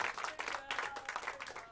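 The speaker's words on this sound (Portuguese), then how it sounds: "Vamos dar uma grande salva de palmas" A small group claps at a Christmas gathering, with brief, faint, uneven bursts of hand claps pulsing in a loose rhythm, somewhat distant, over a short stretch.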